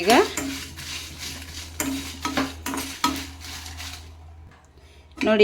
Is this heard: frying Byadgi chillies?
yes